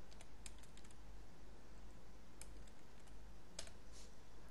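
Quick bursts of keystrokes sound on a computer keyboard as code is typed, soft close clicks in short irregular clusters separated by brief pauses.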